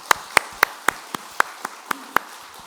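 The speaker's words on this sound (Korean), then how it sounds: "잘 왔다라고 우리 축하의 박수 한번 보내줍시다" A church congregation claps in unison for a Sunday service congratulation, about nine sharp, evenly spaced claps in a steady rhythm, close and crisp against a quiet room.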